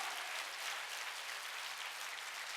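A church congregation claps together at a Korean Sunday worship service, a soft, dense and even wash of many hands that stays steady throughout.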